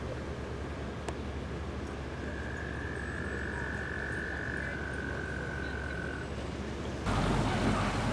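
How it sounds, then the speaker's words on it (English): Toads trill in the distance on an April evening at Jerusalem Mill Village, Maryland: a long, steady high trill over a constant outdoor background, with a louder broadband noise cutting in near the end. "In the distance, those toads are still going at it, beeping for their girlfriends."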